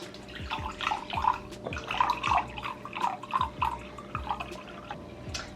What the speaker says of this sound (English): add 1 cup Tazo iced passion tea mix well to combine